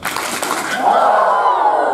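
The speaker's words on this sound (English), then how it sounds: "Now give me 2 claps and a Ric Flair." A crowd of campers at a 2018 football camp gives two sharp claps followed by a long, loud group "woo" shout in the Ric Flair style, sustained and echoing outdoors.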